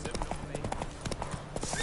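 Hoofbeats of the horse Roach in the video game Witcher 3, a quick run of clip-clops at a trot, moderately near, with speech over them.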